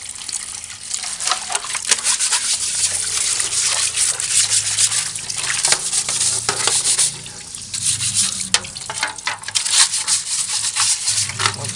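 A part of a bird cage for a starling gets scrubbed by hand, giving a steady run of close, coarse brushing and rubbing strokes with some watery splashing, continuous for about twelve seconds with no talk.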